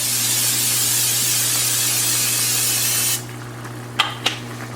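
A steady aerosol cooking spray hisses for about three seconds, then stops, followed by a couple of faint clicks.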